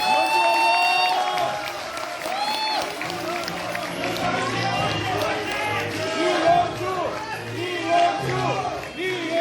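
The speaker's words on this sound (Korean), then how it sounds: "큰 박수로 맞아주십시오" A large crowd at a political party launch ceremony applauds and cheers to welcome a speaker, with clapping, whoops and a chattering din mixed with voices and loud bursts toward the end.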